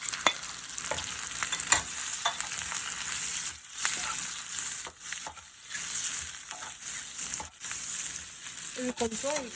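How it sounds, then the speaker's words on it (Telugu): Eggs fry with salt, garam masala, coriander powder, turmeric and chili in a pan for egg pulao, giving a steady close sizzle broken by scraping stirs and a few knocks of a spoon. "ఎగ్ ఫ్రై అయిన తర్వాత సాల్ట్, గరం మసాలా, ధనియాల పొడి, పసుపు, కారం వేసుకొని ఫ్రై చేయాలి."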